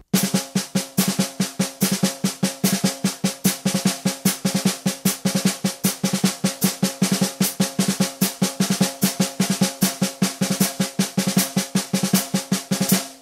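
A snare drum runs continuously through a double stroke roll exercise, cycling one measure of each 16th partial, with dense rapid strokes and recurring accents, played close and loud.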